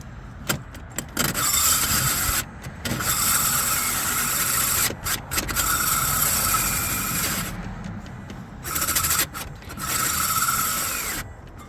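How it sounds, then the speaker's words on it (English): A power drill grinds and rasps in long bursts while drilling a small hole in a 1978 Aristocraft pleasure boat, separated by short pauses, loud and close up. "I'm going to drill a little hole just to see if I can find one"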